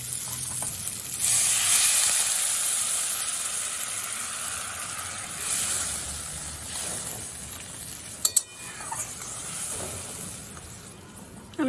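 Hot water goes into a pan of sizzling katla fish curry with potatoes, producing a loud hissing surge that fades to a softer simmering sizzle, with a couple of brief metallic clinks near the end.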